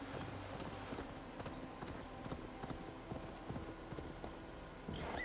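Horse hooves clip-clop steadily at a moderate pace in Assassin's Creed Valhalla, a close, rhythmic trot of repeated sharp hoof strikes with faint game ambience beneath, ending in a brief brighter burst.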